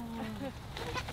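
A goat in a pen at a farm stop in Maine bleats softly in short wavering bursts, faint and a little distant beneath nearby people talking.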